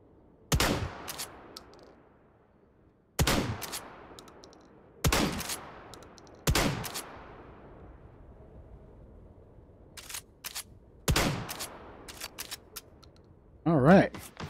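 A pump-action gun fires in the VR game Hot Dogs, Horseshoes & Hand Grenades: about six sharp, close, loud single shots spaced a few seconds apart, each decaying quickly, with mechanical clacks between them and a brief voice near the end.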